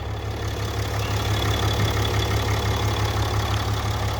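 A 2018 Ram 3500 pickup with a 6.7 liter Cummins diesel idles on a chilly morning, a steady low rumble with an even, unchanging drone throughout.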